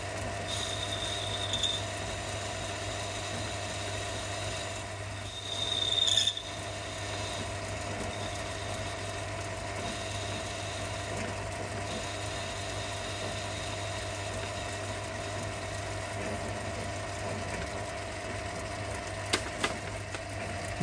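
A lathe takes a parting tool through an undercut on a small model-engineering mandrel, producing a steady mechanical hum with a faint rhythmic whir and a brief rougher cutting burst partway through.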